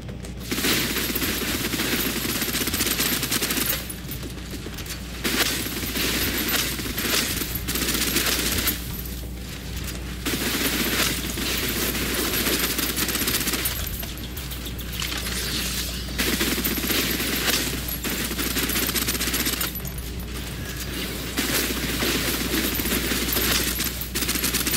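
Sustained suppressive gunfire hammers away in the shooter Snowbreak, long loud automatic bursts separated by brief pauses, repeating steadily for the whole stretch with almost no speech.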